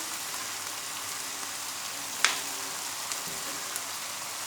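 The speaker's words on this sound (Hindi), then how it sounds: "तो 2 चम्मच के करीब मैं डालूंगी इसमें सिरका" Spicy chicken spaghetti sizzles steadily in a hot pan, with a sharp splashing burst as vinegar is poured in, then a continuous frying hiss and a couple of faint taps.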